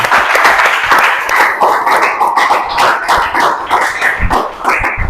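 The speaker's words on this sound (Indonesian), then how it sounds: "Boleh tepuk tangan dulu untuk kita semua." Students clapping together in a classroom after a lesson, a lively burst of dense, uneven hand claps close by that carries on steadily for several seconds.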